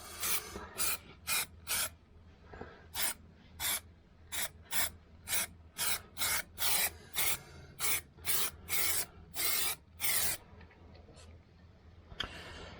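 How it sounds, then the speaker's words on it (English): Short hissing bursts from a spray paint can onto new sills of a Jaguar X-Type Estate come one after another in a quick, uneven rhythm, each about half a second, close and fairly soft. "You see I'm spraying a little bit from the top here"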